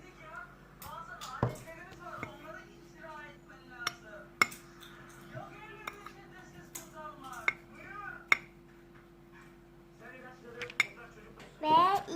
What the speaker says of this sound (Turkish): Şimdi tekrar karıştıracağız arkadaşlar. Kaşığımız gelsin bakalım.